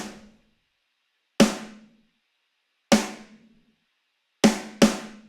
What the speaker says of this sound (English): I'm gonna start by laying down a super basic snare pattern that sounds like this.